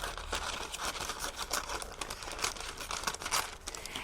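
Scissors snip through crinkly paper lining for a round cake tin, a dense run of rustling, crackling cuts at close range with no talking.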